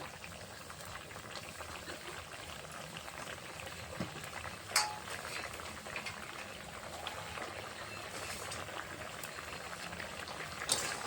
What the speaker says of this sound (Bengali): তরকারিটা ফুটে উঠেছে মাছ দিয়ে